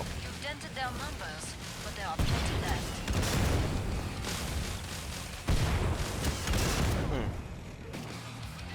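Loud bursts of explosions and rapid gunfire from the video game Killing Floor 2, heavy booms recurring every few seconds, with a voice talking over the action.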